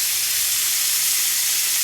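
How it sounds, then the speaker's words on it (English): Wagyu beef bacon sizzles in a pan with a dense, steady hiss of frying fat, loud and continuous with no pauses. "just put the bacon in. Oh, it's got a lovely sizzle."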